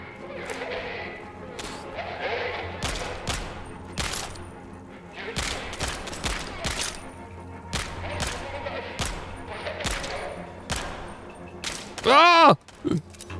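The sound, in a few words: AK rifle gunfire in a video game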